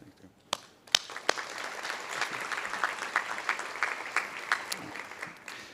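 Outdoor audience at a university groundbreaking ceremony breaking into applause: a few separate sharp claps at first, then a swell of steady clapping from a moderate-sized crowd.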